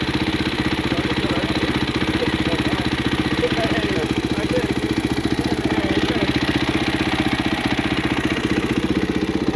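A secondhand motorcycle engine idles nearby with a steady, rapid pulsing chug and a faint mechanical clatter, running alone without any voices.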